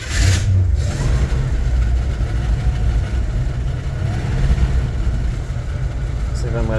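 A 1964 Chevrolet Bel Air engine runs steadily after being unflooded, idling roughly with a low continuous rumble throughout, loud and close.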